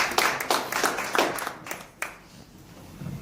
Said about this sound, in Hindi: आप सबकी तालियों के साथ